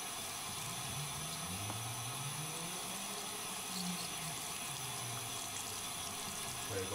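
Tap water runs steadily into a tub or sink for a dog's bath, a constant hiss broken by low gurgling swirls, with no talk over it.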